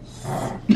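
A dog barks once, loud and close, rising out of a rough, growl-like tone in a busy store setting.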